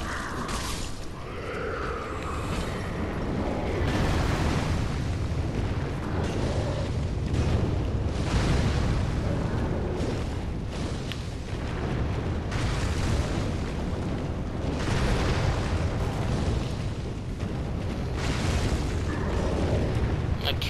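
Fire spell explosions thunder again and again in Dark Souls 3 as a pyromancer casts, a dense, loud roar of booms and bursts running throughout with little pause.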